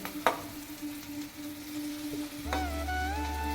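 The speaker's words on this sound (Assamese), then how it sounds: "ভাজি লোৱাৰ পিছত এতিয়া মই ইয়াত পিটিকি লোৱা আলুখিনি দি দিম।" Onion and mashed potatoes fry in a pan on a stove, giving a quiet, steady sizzle, with a sharp clank of a utensil early on and a louder clatter and hum near the end.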